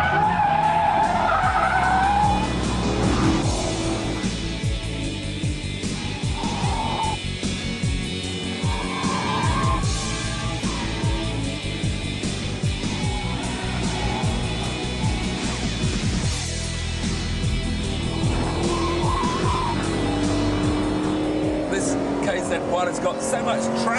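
Ascari KZ1 prototype supercar cornering hard with its tires skidding and squealing, a loud, continuous engine roar and scrubbing tire noise throughout, with speech over it.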